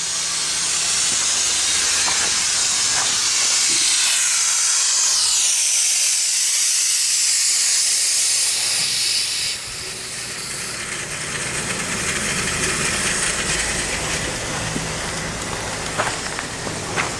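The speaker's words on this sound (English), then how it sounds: "we got a little bit of steam pressure and we went ahead and opened up the valve" Steam hisses hard through a freshly opened valve on an 1895 Bates Corliss steam engine. It makes a loud, steady, broadband rush that runs the whole time and eases slightly partway through, with faint knocks and clanks underneath.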